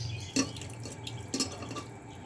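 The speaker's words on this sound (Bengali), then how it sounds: "এবার এতে আমি অল্প পরিমাণ জল দিয়ে দেব।" A little water poured onto salted, turmeric-coated mutton in a kitchen, heard as two short splashy drips about a second apart over a low steady background hum.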